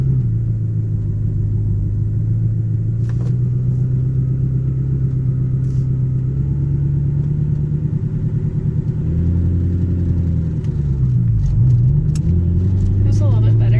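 A manual-transmission car pulling away from a stop as a learner driver eases off, a steady low engine drone and rumble that holds even and then rises slightly near the end, heard from inside the car without talk.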